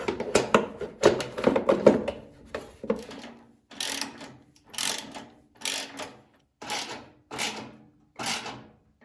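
Reattaching the belt cover on an old Craftsman 9 HP snowblower gives a dense cluster of clicks and taps, then a series of evenly spaced ratcheting mechanical bursts separated by short pauses.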